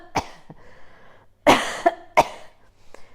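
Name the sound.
cough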